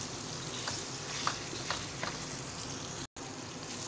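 Spiced white minced meat (keema) is stirred in a hot pan, with continuous sizzling and a few soft spoon scrapes. A brief dropout comes near the end.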